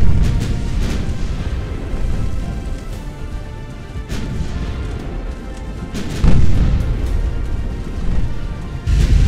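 Battleship secondary guns firing in the naval game Ultimate Admiral Dreadnoughts, a dense run of heavy booms and distant cannon blasts rumbling on, with sharper reports standing out near the end.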